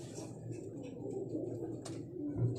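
Pigeons of a prized breed kept at a pigeon shop, cooing softly in low, rumbling murmurs over a steady background hum, with a brief sharp tick near the end.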